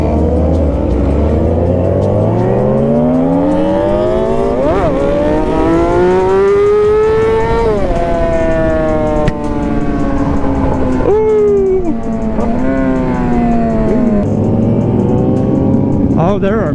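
A Yamaha R6 sport motorcycle rides among a large group of bikes on a road at night, engines rising and falling through repeated revs and gear shifts, loud and close, with a wind-buffeted rumble throughout.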